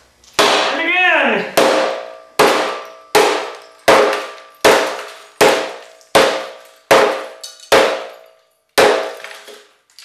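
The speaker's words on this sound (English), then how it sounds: "Which one of our products will best withstand the hammer? First, the VHS tape." A hammer strikes a VHS tape with about ten loud, sharp, ringing clanks, one roughly every second, each blow decaying briefly before the next.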